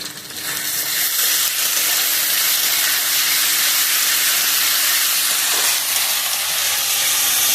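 Onion paste goes into a hot pan already holding garlic paste for khashir mangsho, a goat meat curry, giving a loud, steady broadband sizzle and hiss that runs unbroken throughout with no voices.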